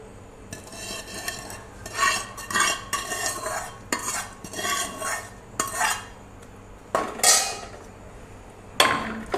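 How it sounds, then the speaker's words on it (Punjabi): A spoon stirs cooled spiced oil into green chillies for hari mirch achaar, giving repeated metallic scrapes and clinks against a bowl in irregular bursts, fairly close with no talk. "ਹੁਣ ਆਪਾਂ ਇਹਨੂੰ ਮਿਰਚਾਂ ਦੇ ਵਿੱਚ ਮਿਲਾਵਾਂਗੇ"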